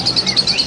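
Caged birds for sale at Arranque Pet Market, chirping in quick, high, evenly spaced tweets, close and fairly loud, over a faint background hum.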